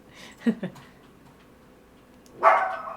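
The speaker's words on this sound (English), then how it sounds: "Oh my god, dog." Dog giving a couple of short barks, then a louder single bark a moment later, near and fairly clear against a quiet background.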